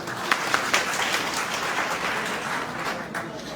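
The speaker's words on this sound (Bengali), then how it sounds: "এই আয়োজনের পিছনে যারা আছে তাদের জন্য একটা জোরে হাততালি" A hall audience at a divisional entrepreneurs' conference in Mymensingh claps in a dense, sustained round of applause, loud and close, with a few sharper claps standing out early on.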